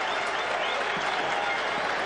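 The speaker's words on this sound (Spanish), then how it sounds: "Ovación para Abregu, por esa recuperación." A football stadium crowd applauds a player's recovery during a Crucero del Norte vs. Rosario Central match, a loud, even wash of clapping and crowd noise lasting a couple of seconds.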